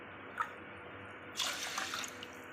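Water is poured onto 250 grams of rice in a cooker while making mango pulihora, giving a short splash and then a steadier pour of about a second, close by and fairly quiet.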